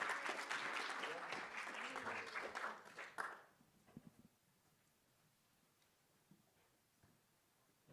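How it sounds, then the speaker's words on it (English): An audience gives a warm round of applause as a speaker is welcomed on stage at an entrepreneurs' event; loud, dense clapping for about three seconds, then it cuts off into near silence with a few faint stray sounds. "Let's welcome him with a warm round of applause."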